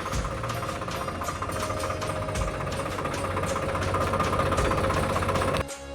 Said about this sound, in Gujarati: તો આપણે ટ્રેક્ટર લઈને નીકળી ગયા છીએ ઘર સાઈડ